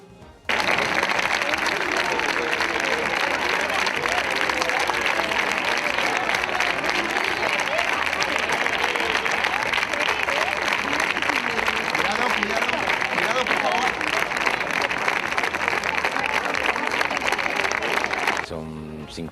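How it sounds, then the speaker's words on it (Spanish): Loud, sustained applause in the Spanish Congress of Deputies for Alfonso Guerra, a dense wall of many hands clapping that starts abruptly and holds steady for nearly twenty seconds before cutting off. "Foto de familia con sus compañeros de Congreso y aplauso sonoro a Alfonso Guerra."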